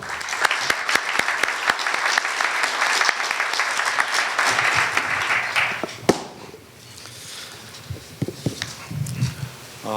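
Loud applause from a university consortium conference audience welcoming a university president to open the ceremony, with sharp claps for about six seconds, then fading into quieter scattered sounds and murmurs.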